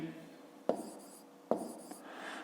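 Pen on paper writes numbers for a fifth-grade math subtraction exercise, heard as faint scratching strokes with two sharper taps as the pen touches down, quiet and close.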